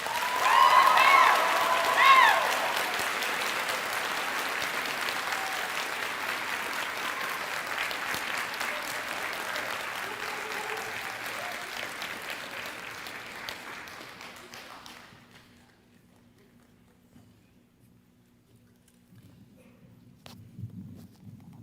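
Graduation ceremony audience applauding honored high school seniors, a loud, sustained wash of clapping that peaks early, slowly thins and dies away to near silence, with a faint voice stirring near the end.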